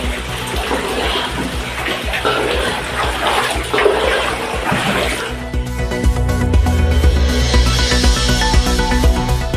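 Floodwater from Cyclone Fengal's heavy rain rushes steadily into homes near Vikravandi, a loud continuous gushing that deepens into a heavier churning roar partway through.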